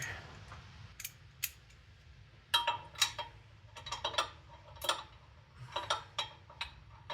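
A ratchet clicks through a series of sharp ticks in irregular bursts while turning a socket on turbo bolts of a Nissan Silvia S15, close up and fairly quiet over a low background hum.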